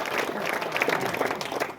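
Applause from a crowd at an outdoor political rally, a steady patter of many hands clapping at moderate distance for a couple of seconds, with faint voices mixed in.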